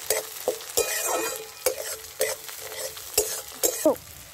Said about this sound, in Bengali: পেঁয়াজ ভাজা হয়ে গেছে, আমি এতে কাঁচা লঙ্কা 4-5টা নিয়েছিলাম দিয়ে দিলাম